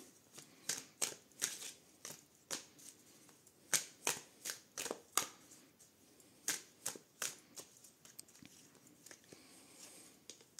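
Tarot cards shuffled and drawn by hand, a quick run of crisp papery slaps and riffles in uneven bursts, close and fairly quiet with no talk.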